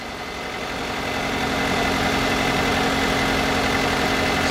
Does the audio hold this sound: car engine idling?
yes